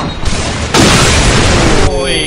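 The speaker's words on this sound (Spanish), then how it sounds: "Granada que acaba de meter de los Or" A grenade goes off in Call of Duty 4, with a loud, sudden booming blast that fills the sound for about a second over match background noise, then cuts to a ringing tail.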